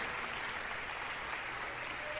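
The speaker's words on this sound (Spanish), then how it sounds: "¿Cuántos le dan un aplauso al Señor?" A congregation applauds at a church service, heard as a faint, distant and steady wash of clapping with no voices.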